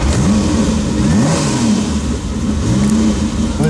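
A vintage Ferrari engine with a holed muffler revs up and down in loud, close bursts, its rising and falling pitch sweeps repeating several times with a raspy exhaust edge.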